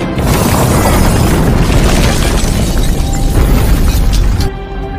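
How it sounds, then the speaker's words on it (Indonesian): A big, sustained explosion of a base in an action film roars with dense low rumble and crackling debris, loud throughout before cutting off abruptly. "akhirnya langsung meledak"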